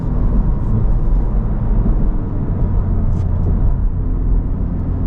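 A 2023 Honda Civic Type R drives on a wet race track, its engine giving a steady, loud, close drone with road and wind noise throughout and no voices.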